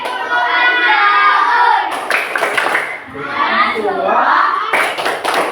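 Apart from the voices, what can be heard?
class doing rhythmic Tepuk Al-Maun clapping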